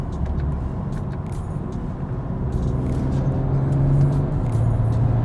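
A BMW G42 M240i fitted with a DCE downpipe and Eventuri intake cruises in comfort mode, its engine a subdued, steady low drone with road rumble and occasional clicks and rattles from inside the cabin.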